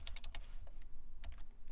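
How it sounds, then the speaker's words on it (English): Typing an SSH command on a computer keyboard, a quick run of close key clicks followed by a brief pause and a few more taps, with a low background hum. "Simply type SSH, then type the username of the server"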